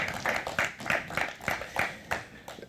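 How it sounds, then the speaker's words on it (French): An audience at a panel on startup banking claps for a speaker taking a seat, a modest run of fairly even, closely spaced claps at moderate volume. "Je pense qu'on peut l'applaudir, tu peux prendre place."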